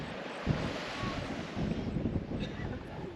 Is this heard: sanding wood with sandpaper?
no